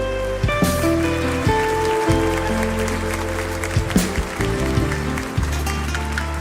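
Crowd applause and clapping at a church service over sustained instrumental music, with a few louder bursts scattered through the clip.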